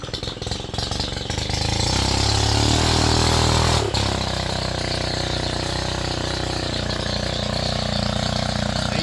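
A rebuilt Stihl weed trimmer engine cranks to life and settles into a steady, loud idle, a continuous mid-pitched drone with a slight rattle and a brief dip partway through, with no voices over it.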